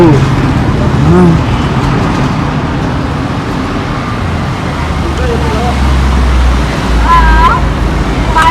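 A relative's car arrives during a family outing to the Ekvira temple at Karla, its engine rumbling loudly and steadily nearby, with people talking over it throughout.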